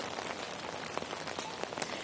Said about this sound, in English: the rain is just coming down. It's really uncomfortable, freezing rain.